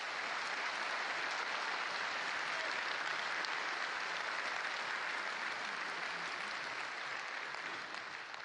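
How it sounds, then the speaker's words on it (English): An audience at a CCP Fanfest 2012 keynote applauds, the clapping dense and sustained for several seconds, fairly faint and distant. "Please give them an applause."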